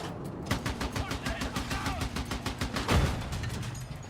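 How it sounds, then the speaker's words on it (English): Rapid, evenly spaced gunfire rattles steadily in a Battlefield 6 match, one heavier crack standing out near the end, loud and continuous with no pauses. "I'm being sniped"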